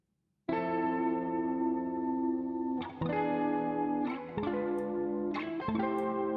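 A clean electric guitar plays sustained chords with a lush, shimmering chorus and reverb tail, each chord ringing into the next.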